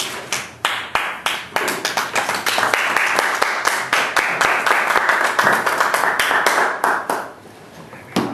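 A small audience at a Toastmasters club meeting claps to welcome speaker Ken Smith, with sharp, close individual hand claps that swell into sustained applause, then taper to a few scattered claps.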